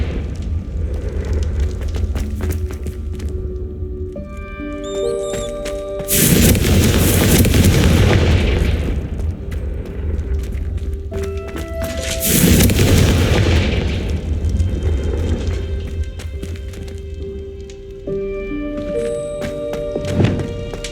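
Confringo explosive spell in Hogwarts Legacy, two loud fiery blasts a few seconds apart, each roaring and fading over about two seconds, with game music and ambience between.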